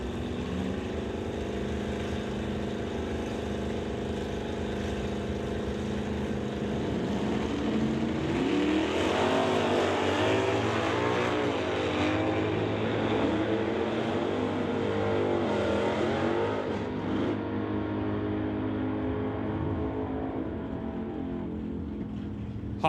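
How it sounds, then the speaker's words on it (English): A Dodge Dart and a 1965 Dodge Coronet at a non-electronic drag race, engines idling and revving at the line before a loud full-throttle launch roars up and then fades into the distance. "We'll bring up Rob Hodgson in the Dart to race Barry Peterson in the 1965 Cornet"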